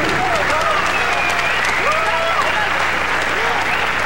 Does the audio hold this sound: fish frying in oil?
no